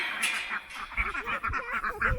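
Farm ducks quack at feeding time in a short run of repeated, nasal calls, fairly close and steady over a light outdoor background, with chickens and roosters also around.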